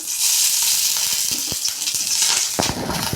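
Oil sizzles loudly in a pan as ingredients for tamarind chutney fry, producing a continuous hiss broken by several sharp clinks and scraping stirs, with no talking.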